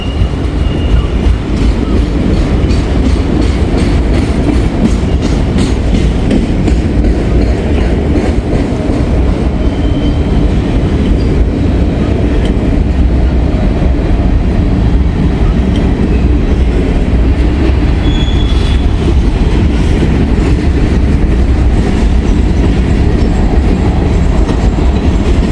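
A very long, slow freight train with autorack cars rolls steadily past close by, a continuous loud rumble of wheels and rail clatter with no break throughout.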